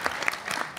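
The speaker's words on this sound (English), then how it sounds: "Y'all can clap." Brief applause from a middle school quiz show audience, a short burst of scattered clapping with no talk over it.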